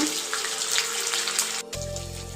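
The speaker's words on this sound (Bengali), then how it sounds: "পনিরগুলো ফ্রাই করে নেব" Paneer cubes fry in oil and a spoon of ghee in a pan with a steady hiss and sizzle, close and moderately loud, then a short break and a low hum with the frying continuing.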